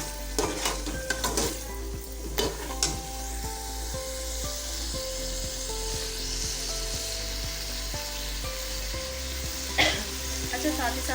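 Tender mutton for palak gosht fries on a high flame, a steady sizzle under a low background hum, with bursts of spatula scraping and tapping against the pot at the start and again near the end.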